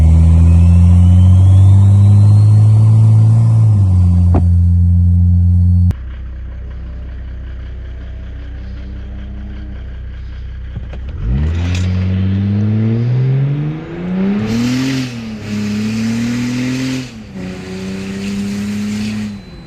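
An OM606 Mercedes-Benz diesel car fitted with a twin-scroll exhaust manifold drones loudly and steadily at first. It then makes repeated hard acceleration pulls, the engine note climbing in pitch with breaks between gears.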